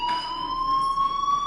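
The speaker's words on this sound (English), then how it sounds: "Hey, do you hear that fire alarm?" Fire alarm in the video game Life Is Strange, a steady electronic siren tone with a slowly rising pitch, loud and continuous with no talk.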